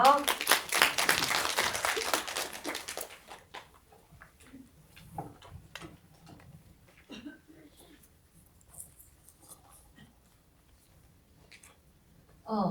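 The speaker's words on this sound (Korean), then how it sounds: "박수로 맞이해 주세요" An audience at a language academy briefing event claps to welcome a speaker, a loud burst of applause for about three seconds that drops away to a quiet room with scattered small noises and a voice at the end.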